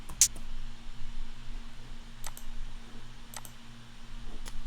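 Mouse clicks on a browser window: one sharp, bright click near the start, then a few fainter clicks spaced about a second apart, all over a low steady hum and background hiss.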